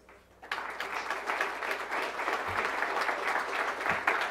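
Audience applause at an awards ceremony for international women of courage: a sudden burst of steady clapping from a large crowd that carries on without a break.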